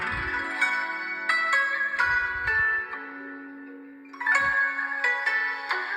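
A POCO X5 Pro smartphone playing a ringtone-like melody through its stereo speakers, a bright tonal tune with bell-like notes and a sustained low tone, heard clearly and close with no talk.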